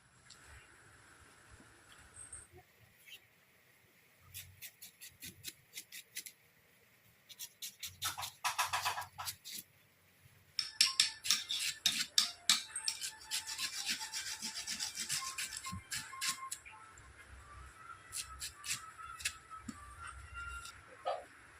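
Banana stem sliced by hand on a boti blade, a run of close, crisp scraping cuts, some in quick bursts and others spaced apart, heard alone and fairly near.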